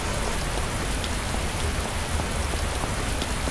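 Steady rain pours down outside a vehicle showroom, a dense, even hiss of drops on surfaces that continues without a break and with no voices.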